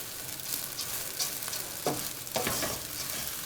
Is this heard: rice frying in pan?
yes